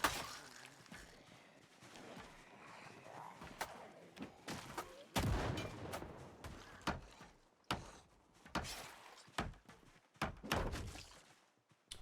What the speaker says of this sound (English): I don't know why we're still shooting